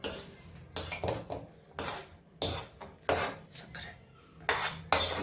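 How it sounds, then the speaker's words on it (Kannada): Roasted gram flour for besan ladoo being scraped and shifted into another vessel: metal spoon and pots clatter and scrape in irregular bursts, close but fairly quiet, with no voices. "ಬೇರೆ ಒಂದು ಪಾತ್ರೆಗೆ ಶಿಫ್ಟ್ ಮಾಡ್ಕೊಳ್ಳೋಣ."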